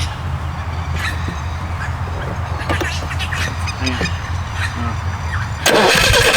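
A Lotus car engine cranks on the choke in a car park with a steady low rumble, then catches near the end in a sudden loud, close roar.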